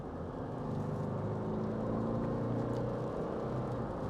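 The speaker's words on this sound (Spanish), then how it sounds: "El sonido del 4 cilindros turbo diésel" The four-cylinder turbo diesel of a 2024 Toyota Land Cruiser 250 (Prado) drones steadily from inside the car under full acceleration, a low rumbling hum that holds its pitch under road noise, with no talking.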